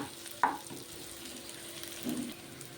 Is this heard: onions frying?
yes